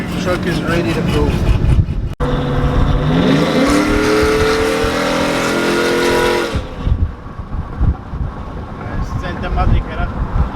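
A tuned truck with an upgraded boost gauge and stiffer wastegate springs revs hard up close, the engine note climbing in pitch before cutting off sharply, with wind buffeting and loud rumble around it.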